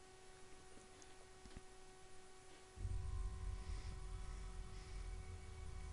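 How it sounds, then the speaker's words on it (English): A lightsaber's steady electric hum with a faint tonal whine, from a Star Wars: The Force Awakens trailer, swelling into a louder, fuller rumbling drone halfway through; no voices. "You got the lightsaber hum there."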